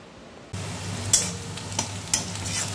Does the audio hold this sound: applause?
no